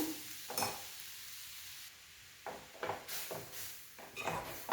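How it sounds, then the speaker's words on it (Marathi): Cooked moong dal with methi being stirred in a pot, a few soft scraping, clinking strokes in short bursts with quiet pauses between, close and fairly faint, no talking. "मिक्स करून घेऊया"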